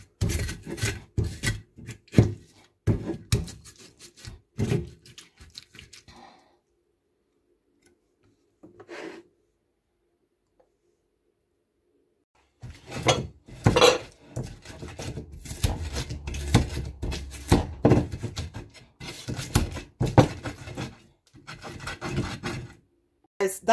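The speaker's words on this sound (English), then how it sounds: "in this my native grinder, that is what I'm gonna grind this, the shito, the pepper, not the shito, the onions, the tomato, and the green pepper" Onions, tomato and green pepper ground by hand in a native Ghanaian earthenware grinding pot for pepper sauce, heard as close, repeated rubbing and scraping strokes that stop for a quiet stretch midway and then resume more steadily.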